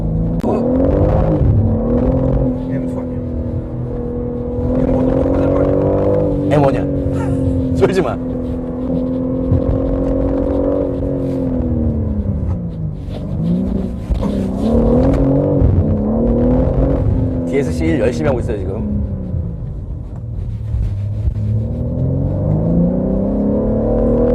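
BMW M3 G80 with ZF automatic transmission driving on a winding road, its engine droning steadily and rising and falling as it holds second gear and downshifts, with someone talking over it throughout.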